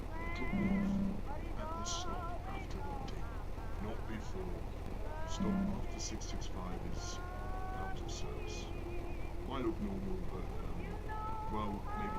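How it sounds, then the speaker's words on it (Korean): A cat meows several times in the horror game Night Bus, set in a rainy, old-style 1999 New Zealand bus scene, with someone talking throughout over steady rain and engine rumble. "고양이가 있네"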